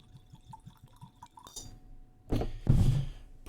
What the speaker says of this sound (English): Pour a little bit of the Blanco in the glass.